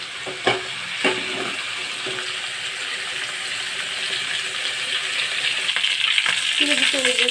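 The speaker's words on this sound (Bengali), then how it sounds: "আমার কিন্তু মাছ ভাজা অলরেডি হয়ে গেল" Pangas fish fries in a pan with a steady sizzle, punctuated by a few clinks and stirring knocks, growing slightly louder toward the end.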